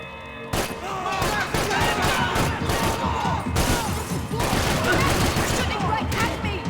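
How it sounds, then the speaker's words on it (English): Heavy gunfire erupts in Max Payne 3, a dense barrage of rapid shots and impacts starting abruptly and continuing loud and close, briefly easing before a second intense burst. "They're shooting right at me!"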